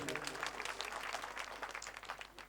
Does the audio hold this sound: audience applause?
yes